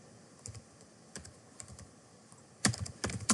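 Typing on a computer keyboard: sparse, uneven key clicks heard up close and fairly quiet, ending in a faster flurry of keystrokes, with no talking.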